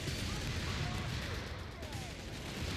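Strafing run by a Hawker Typhoon during a Company of Heroes 3 battle, a dense stream of gunfire crackling and rumbling continuously under game noise, with a voice talking over it.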